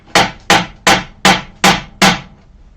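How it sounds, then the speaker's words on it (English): A regular hammer strikes something six times in a steady, evenly spaced rhythm, each blow loud, sharp and close, with a short ringing decay and no voices. "I probably shouldn't be using a regular hammer."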